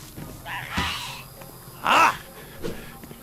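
Harsh bird caws ring out mid-fight in the fantasy game Risen, a single loud squawking burst standing out against a dim backdrop of combat noise.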